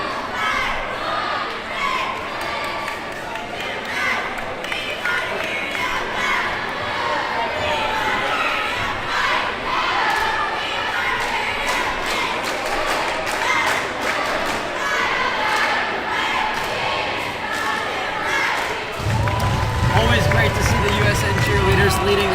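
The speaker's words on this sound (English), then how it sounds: "Looks like we've got some lower schoolers getting ahead on their cheer there as well." A school basketball game's student section and younger fans chant and cheer as a loud, steady crowd roar, with thumps from the court and a commentator talking over it; a deeper, heavier surge of noise arrives near the end.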